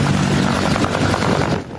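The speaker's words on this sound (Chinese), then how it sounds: "直升机起降，声音真响，互咧霹雳扇大风。" Military combat helicopters lift off and land at a temple-square refuelling point by a harbour in Penghu, Taiwan, with a loud, close, brief rotor roar.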